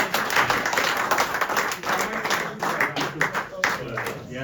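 Audience clapping at a cricket club's annual general meeting awards ceremony, a steady, dense wash of hands lasting the whole moment, with voices calling out and talking over it.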